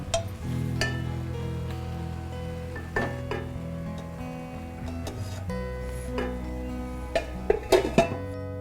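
Radish and leafy greens cooking in a pan, with a steady low simmer and sizzle and a few sharp clinks of a utensil against the pan near the end, no talking.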